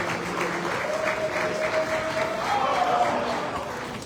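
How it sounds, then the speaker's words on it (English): Crowd applause rises at an opposition political gathering in Ibadan, Nigeria, a steady mid-level wash of clapping lasting a few seconds with a voice faintly over it. "A round of applause for him."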